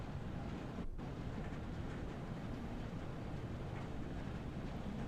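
A shunting locomotive in Train Sim World 5 crawls along slowly, giving a steady low rumble and rolling noise with one brief drop near the start and no talk over it.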